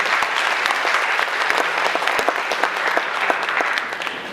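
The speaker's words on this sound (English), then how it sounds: "if you'd like to give her a round of applause" Audience applause at a Democratic mayoral candidate forum, a steady dense patter of many hands clapping for over four seconds at fairly even loudness, with no voices over it.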